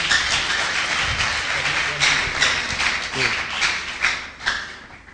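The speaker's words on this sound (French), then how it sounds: "Applaudissez pour le futur médecin du pays" Crowd applause for a future doctor at a college event in Goma, a dense broadband patter of many hands running steadily throughout, with voices mixed in beneath.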